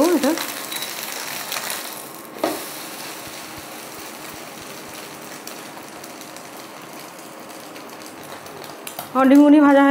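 An egg layer for a Kolkata-style egg roll fries in a pan and is turned with a utensil. A low, steady sizzle runs throughout, broken by one sharp clatter early on, and a voice comes in briefly at the end.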